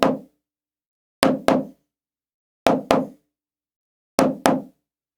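Slow double stroke roll with bounced drumsticks, three evenly spaced pairs of crisp, sharp hits, each pair two matching strokes, close and alone with silence in between.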